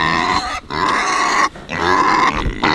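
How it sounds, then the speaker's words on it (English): Several loud, close pig grunts in quick succession, deep nasal snorts separated by short pauses, with no talking. "Hey, pigs."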